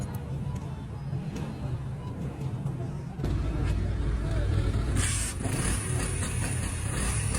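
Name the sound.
motorcycle engine running after valve adjustment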